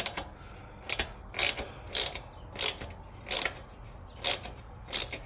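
A socket ratchet loosens the belt guard bolts on a Harley-Davidson Dyna, giving seven or eight short, evenly spaced bursts of clicking pawl teeth up close, with quiet pauses between strokes and no talking.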